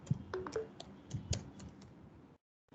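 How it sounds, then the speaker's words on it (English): Someone types on a computer keyboard, giving a quick irregular run of soft close clicks and taps, then a brief silence. "I am typing my number here."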